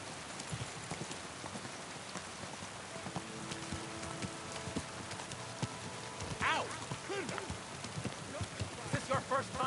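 Hooves clip-clop steadily as a horse is ridden in Kingdom Come Deliverance 2, the hoofbeats set in a rain-like wash of ambience with faint voices and a few brighter sounds toward the end.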